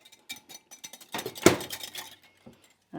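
A spoon clinks against a bowl while heavy whipping cream is stirred for Ninja Creami ice cream, giving a run of quick, light taps with one louder clink near the middle and a few scattered knocks after.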